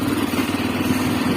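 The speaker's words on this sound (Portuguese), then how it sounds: "a moto da gente tá com uma batidinha na corrente de comando" A Honda XRE 300 motorcycle engine with a knocking timing chain runs close by, a steady dense mechanical clatter with a continuous rapid ticking texture and no pauses.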